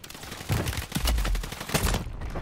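Gunfire in the battle royale game Call of Duty Warzone, a loud, dense volley of rapid shots with booming low-end impacts, continuous for about two seconds before fading.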